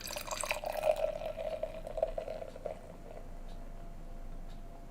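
Belgian Gold beer is poured, a soft, gurgling liquid stream strongest in the first two seconds, then fading to a faint fizzing as the glass settles.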